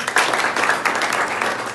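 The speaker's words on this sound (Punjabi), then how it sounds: "ਸ਼ਾਬਾਸ਼ ਤਾੜੀਆਂ ਮਾਰੋ ਬਈ" Tenth-grade students in a government high school classroom clap together in a short, dense burst of applause that stays steady and fairly loud throughout.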